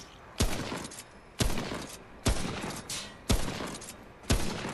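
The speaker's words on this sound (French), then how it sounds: "Je me prends des balles perdues." Gunfire striking the player in Remnant: From the Ashes comes as five sharp, loud shots at a steady pace of roughly one per second, each trailing off briefly.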